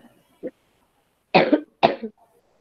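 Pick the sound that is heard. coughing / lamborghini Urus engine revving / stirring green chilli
coughing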